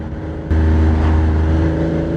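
A Porsche 987 Boxster engine hums loudly and steadily above 3,000 RPM in third gear, holding a strong low drone that jumps up in level after a brief quieter start.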